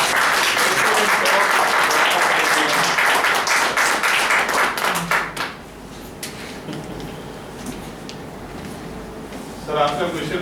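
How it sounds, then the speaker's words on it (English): Applause at the close of a question session fills the first five seconds as dense clapping, then fades into quieter room noise with some speech and scattered sounds. "huge round of applause"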